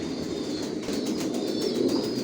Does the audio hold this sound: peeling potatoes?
no